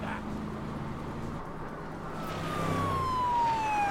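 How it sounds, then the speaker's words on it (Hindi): A police car siren in GTA 5 wails as the police vehicle gives chase, its falling tone sweeping down, with traffic and engine noise growing louder under the siren. "ओह, पुलिस की गाड़ी पीछे पड़ गई।"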